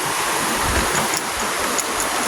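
A stream flowing down from pools at an adventure park, a steady close broadband rush of water with no pauses and no voices.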